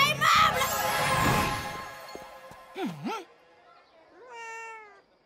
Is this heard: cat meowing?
yes